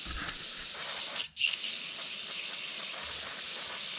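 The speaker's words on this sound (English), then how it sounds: "I'm just going to go ahead and spray off a lot of this gook" Carburetor cleaner sprays onto the carb of a Toro CCR2450 snowblower, a steady close aerosol hiss that cuts off briefly before bursting back and continuing evenly.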